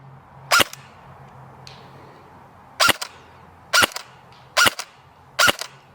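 Airsoft gun firing 0.20 g BBs at about 270 fps, roughly 1.9 joules: five sharp, loud cracks, single shots spaced irregularly about a second apart, over a low steady background hum.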